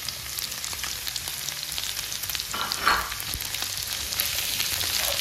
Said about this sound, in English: keep stirring it also until the onions are golden brown